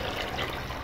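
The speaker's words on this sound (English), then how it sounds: "I'm now going to put the water on top." Steady rushing of water pouring into a pot of fish soup, a continuous splashing flow at close range for under a second.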